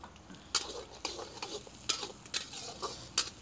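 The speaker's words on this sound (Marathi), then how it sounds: "कांदा ब्राऊन होस तर आपण त्याला असंच परतून घेणार आहे।" Finely chopped onion sautéing in hot oil in a pan, Khandeshi style, with green chillies added, giving a steady soft sizzle broken by repeated sharp scraping strokes of a stirring spoon at a near, moderate level.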